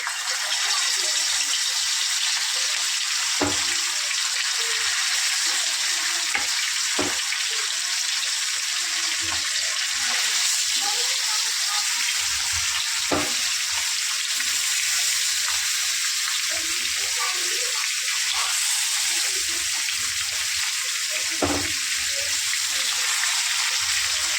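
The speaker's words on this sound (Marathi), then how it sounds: "तव्यामध्ये पण तेल गरम झालंय. आता एक एक आपण सोडून देऊयात." Marinated red fish pieces fry in hot oil in a flat pan, a loud continuous sizzle and hiss that persists throughout with occasional sharp crackles and pops, close by.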